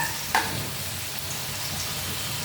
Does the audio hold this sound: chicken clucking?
no